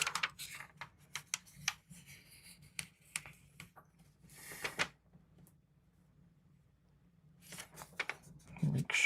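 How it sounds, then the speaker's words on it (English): Paper folded back by hand at a jewelry bench, giving a run of soft crinkling and rustling bursts with short sharp creases, a quiet pause midway, then more rustling near the end; no talking. "fold the paper back"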